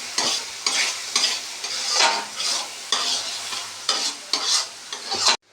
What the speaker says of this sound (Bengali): এবার ওগুলোকে ভালো করে ভেজে নেব